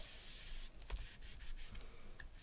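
A burnishing tool rubbed lightly over a craft stamp, giving quiet, close dry scraping strokes in short uneven bursts with brief pauses.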